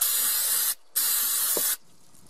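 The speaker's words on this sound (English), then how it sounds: "you can use brake cleaner and get all the parts that were too oily and difficult to clean" Two long hissing bursts of brake cleaner aerosol spray on oily engine parts, close and steady, separated by a brief pause.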